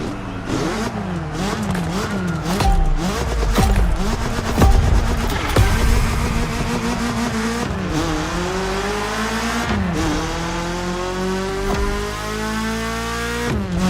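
A BMW M3 in The Crew Motorfest racing game revs loudly through rising and falling engine pitch, with tire squeal and skidding mixed in, continuous and close for the whole stretch.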